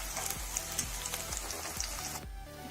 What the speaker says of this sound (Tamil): அந்த எண்ணெயில் பொரித்து எடுக்க போகிறோம்